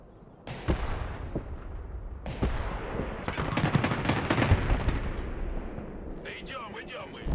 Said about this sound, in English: Metis launcher popped that.